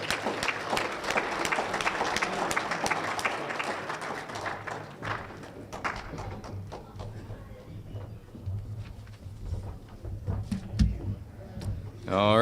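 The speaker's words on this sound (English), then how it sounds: "let's give all of these Ringman contestants a big round of applause" Audience applause for contestants at a Michigan auctioneers and ringmen championship, with clapping strongest at the start and thinning out over several seconds, followed by quieter room noise, scattered thumps and a voice speaking near the end.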